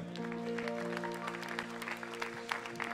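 A church congregation applauds in a dense, steady wash of clapping, heard at moderate distance over a low sustained hum, with faint voices mixed in.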